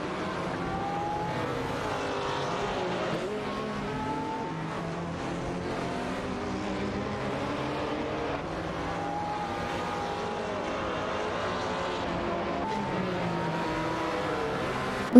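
Racing engines from a video game, including a Ferrari 488 GT4 and a Maserati GranTurismo, droning and revving steadily as the cars' pitch rises and falls through gear changes, with no voices.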